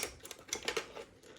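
A cutter slices through 12-inch craft paper in a quick series of light, crisp clicks and scrapes, close by and faint.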